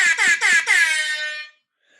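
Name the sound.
air horn sound effect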